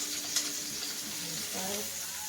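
Roast beef searing in a very hot pan gives a steady, close sizzle and hiss throughout with a faint clack near the start and no talking.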